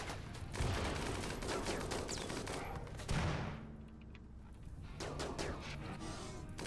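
Video game gunfire crackles in rapid bursts of fusillade shots, with a brief lull in the middle before the shooting resumes, fairly quiet overall and with no voices.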